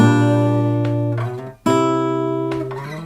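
Acoustic guitar fingerpicked, sustained open-string tones with fresh plucked notes ringing out, a brief pause midway, played clearly and close up without any voice.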